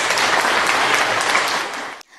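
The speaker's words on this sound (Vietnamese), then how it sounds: "chúng ta hãy dành một tràng pháo tay thật lớn để chào đón cũng như cảm ơn sự hiện diện của các thầy cô và các bạn" Applause from a crowd of former classmates at the 20-year reunion of class 12B, Tân Lạc High School, fills the room loudly and evenly, greeting teachers before cutting off abruptly.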